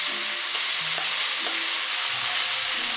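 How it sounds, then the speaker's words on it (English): Beef fries in hot oil in a preheated pan, giving a loud, dense, continuous sizzle with faint clinks of utensils. "When the oil is hot, put the beef."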